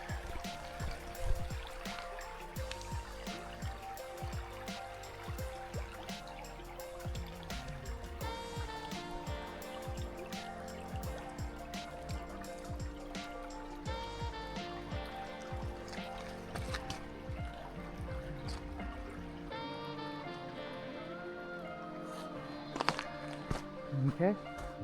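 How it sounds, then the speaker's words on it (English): A forest creek flows steadily in a conservation forest, its water trickling and babbling close by at a moderate level, with dense musical-sounding tonal layers running throughout and no one speaking. "Let's listen to the water."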